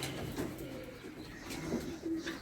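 Racing pigeons cooing softly in a loft, low repeated coos overlapping at moderate distance with faint rustling in the background.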